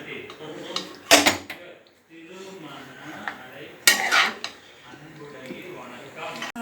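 Pasta being stirred in a pan with mayonnaise and chilli flakes, giving two bright clattering scrapes of utensil against metal amid softer kitchen handling noise, close and moderately loud, with no talking.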